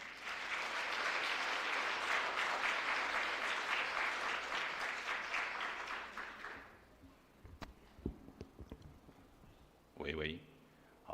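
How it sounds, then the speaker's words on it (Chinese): Guests at a church wedding ceremony applaud warmly for several seconds before the clapping fades out, followed by a few faint knocks and a brief voice. "让我们掌声欢迎周哥"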